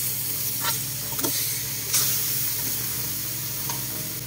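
Pork pieces sizzle and fry in hot oil with sautéed onion and garlic in a pan, a steady close crackle broken by a few sharp stirring scrapes, with no voices.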